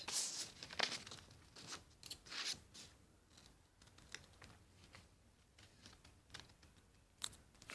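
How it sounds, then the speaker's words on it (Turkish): Quiet, close snipping of scissors through folded paper, a series of short crisp cuts with light paper rustling between them. "makasla keseceğiz"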